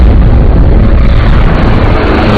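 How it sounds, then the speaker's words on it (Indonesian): A bomb blast aboard a ship in the James Bond film No Time to Die, heard as a loud, sustained broadband roar and rumble that fills the whole clip without letup. "karena ledakan bom yang dipasang oleh Logan S membuat kapal mulai tenggelam"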